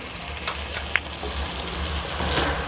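Chickpeas fry in a pan with ground black pepper and coriander, a low steady sizzle with a brief clink near the start, close and fairly quiet.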